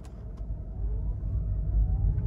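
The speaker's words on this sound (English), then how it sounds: "you can hear a little bit of road noise immediately start to come into the car" Steady low road rumble and tyre noise inside a 2017 Toyota Prius hybrid on the move, a continuous close hum that builds slightly and holds with no talking.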